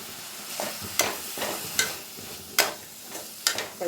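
Sliced onion and spice masala of turmeric, chilli, coriander powder and garam masala frying in a pan, with a low steady sizzle and sharp scraping strokes of a spoon about every second, close and without voices.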